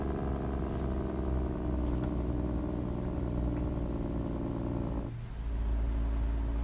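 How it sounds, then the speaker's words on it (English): Steady low rumble of a truck engine in American Truck Simulator, a continuous drone with a faint whistle on top that dips briefly near the end before resuming, heard alone without talk. "The truck is not too loud"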